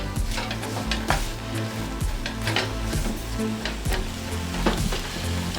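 Sugar being stirred into a pot of food while cooking Jamaican escovitch fish, a steady dense sizzle with repeated scraping and clinking of a utensil against the pot, close and fairly loud, no voices.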